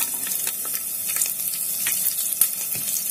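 Cumin seeds, cardamom and garlic cloves sizzle in hot oil for a potato curry, a steady close crackling hiss with scattered sharp pops and no talking.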